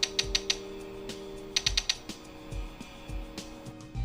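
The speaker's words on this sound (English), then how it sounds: "Twisting its widdershins won't actually make it change shape, but it does make a distinctive clicking sound." Irregular plastic clicks from a twisted electronic gadget, a rapid cluster of sharp ticks followed by scattered single clicks and short bursts, close and fairly clear, with no talking.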